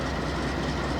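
A CP Rail coal train with wireline distributed power rolls past close by, a loud, dense, continuous rumble of wheels and cars with no voices.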